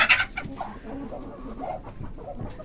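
Hens cluck continuously at close range, a busy overlapping murmur of short, throaty clucks from several birds with no talk over them.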